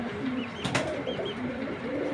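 Pigeons of fancy breeds, including a chita bagha pair, coo softly and steadily against low background hum, with a brief flutter of wings in the middle.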